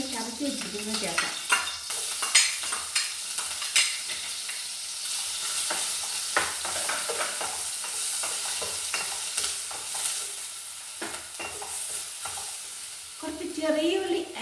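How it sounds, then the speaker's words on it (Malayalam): Crushed ginger and garlic go into hot oil in a pan for chicken curry, giving a bright continuous sizzle broken by scraping stirring strokes, close and fairly loud, with brief speech at the start and end. "എണ്ണ ചൂടായി വന്നിട്ടുണ്ട്. അതിലേക്ക് നമുക്ക് ഇഞ്ചി വെളുത്തുള്ളിയും കൂടി ചതച്ച് വെച്ചിരിക്കുന്നത് ചേർക്കാം."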